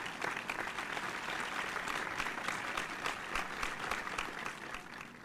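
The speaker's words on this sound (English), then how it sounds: "let us give a virtual round of applause to Dr. Caterina Lorenzo-Molo." Applause from an audience at a panel discussion event fills the clip, dense steady clapping at moderate loudness with no talk over it.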